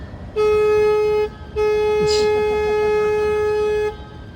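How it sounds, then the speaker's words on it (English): A loud, deep tour-boat horn on the San Antonio River Walk blasts twice, a short honk then a longer sustained one, close by with a steady tone. "I just honked our boat horn here"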